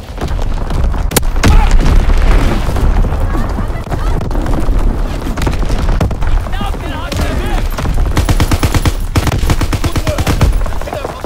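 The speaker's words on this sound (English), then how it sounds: "Incoming enemy artillery." Dense, continuous World War II battle noise from Call of Duty: WWII, with heavy booming artillery impacts and rapid gunfire bursts layered throughout, loud and close, under in-game voice callouts.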